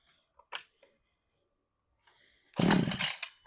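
A cheap Temu chainsaw is pulled to start, with a few faint cord pulls and clicks, then the engine catches and roars loudly for about a second before dropping off.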